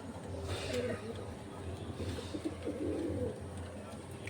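Pigeons coo in soft, repeated low throaty phrases nearby, a few overlapping calls against quiet background.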